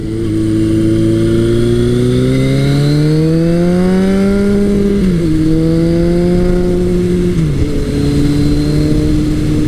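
A motorcycle engine revs steadily and loudly for ten seconds, its pitch climbing gradually then dropping in two quick steps as the throttle eases, with no talking.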